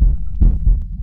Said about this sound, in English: The heartbeat's so loud.